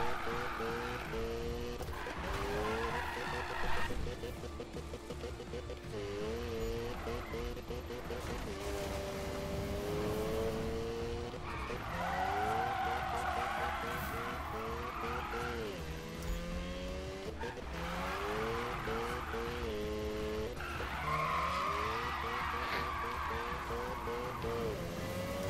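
Race cars in a video game roar through rising and falling engine tones with intermittent tire squeals and skids, and a person talks at times over the continuous racing sounds.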